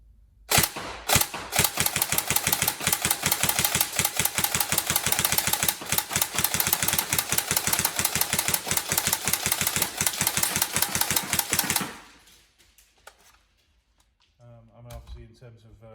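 An upgraded Tokyo Marui SCAR H DMR airsoft electric gun with an Action Army 35k motor fires a long rapid full-auto burst of sharp clattering shots for about eleven seconds, then stops, followed by a few quiet words.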